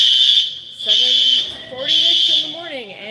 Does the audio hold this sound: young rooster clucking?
no